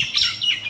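A common myna gives a brief burst of bright, close chirps, about two quick calls in under a second.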